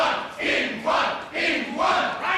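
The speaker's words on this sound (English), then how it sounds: "It's a rugger crowd, dear." Rugby crowd cheering and shouting in a pub, a rowdy mass of voices rising and falling in loud surges throughout.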